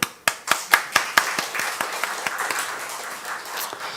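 A small group at a church claps, with distinct sharp hand claps at first settling into steadier applause that continues throughout.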